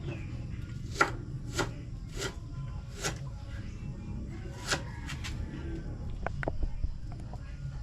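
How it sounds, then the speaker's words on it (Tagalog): A Bombay onion is chopped with a knife, producing a series of sharp, irregular taps against a board, close and distinct, with quicker cuts clustering toward the end over a low background rumble. "Kaya hati-hatiin lang natin para pabango lang sa ating niluto."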